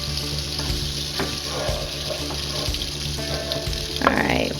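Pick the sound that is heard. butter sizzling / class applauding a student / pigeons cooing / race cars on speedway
butter sizzling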